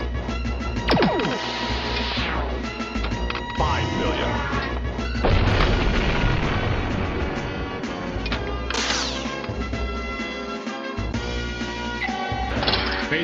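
Weapons fire and explosive crashes ring out in the Star Trek: The Next Generation pinball video game, with repeated booming blasts and clattering hits over busy electronic game sounds and intermittent voice callouts.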